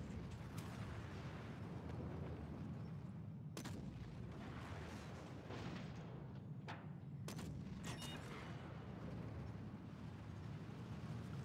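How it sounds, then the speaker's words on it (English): Gunfire in the video game PlanetSide 2, a dense roar of continuous shooting and booming blasts with a few sharper loud cracks standing out, heavy and rumbling throughout. "Little friendly fire there"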